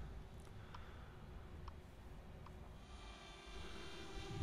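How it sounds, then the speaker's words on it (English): A DJI Mavic Air drone flies outdoors, giving a steady, fairly faint buzzing hum with a constant high whine that carries on evenly throughout, with no talking. "I've heard a few people complain about the noise of this drone."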